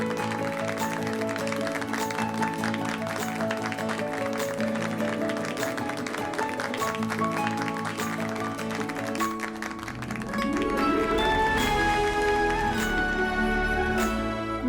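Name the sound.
audience applause for a topper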